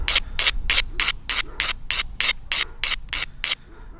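Stone platform edge being ground during flintknapping of a barbed point, a rapid run of about twelve evenly spaced rasping scrapes, close and loud, stopping abruptly.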